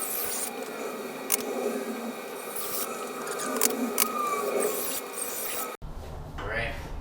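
Screws are driven into wooden wheel cribs built for an Alfa Romeo Giulia, giving a close grinding, rasping whir with scattered sharp clicks, then a brief change to quieter handling noise.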